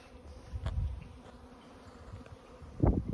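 Honeybees buzz around a newly placed hive, their buzzing faint and close. A couple of louder passes from bees flying near stand out over a quiet outdoor background.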